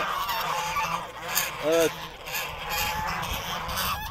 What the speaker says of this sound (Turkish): Diğer kazlar da bağırışarak destek veriyorlar.